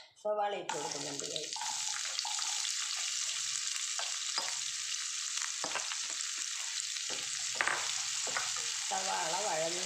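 Sliced onions sizzle and crackle steadily in a hot pan as the base for fish biryani, a loud continuous frying hiss with brief voice sounds at the start and end.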